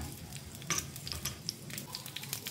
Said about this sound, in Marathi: मातशे ग्रीन चिली आमी फ्राय करून घेवया तुपान.